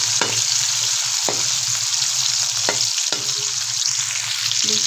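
Onions sizzling loudly in hot oil as the base of an arbi gravy, a dense continuous crackle with a few scraping stirs and light utensil taps, no talk.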